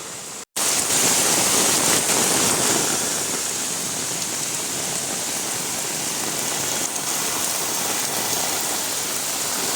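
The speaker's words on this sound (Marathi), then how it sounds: "कसलो येता बघा पावसा बेकार" Heavy rain pours down during a flood in Kankavli, a loud, dense and unbroken roar of water that begins after a brief dip and stays constant to the end.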